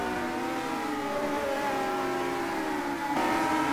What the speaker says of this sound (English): The cars are so loud actually for such small engines